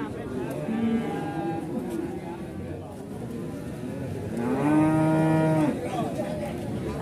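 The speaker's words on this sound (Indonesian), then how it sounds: "Sapi bakalan dari harga 18 jutaan." Cattle at a livestock market moo loudly, one long drawn-out low call midway with shorter ones earlier, over a busy crowd and people talking nearby.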